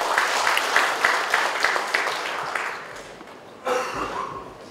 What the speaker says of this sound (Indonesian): tepuk tangan terkait.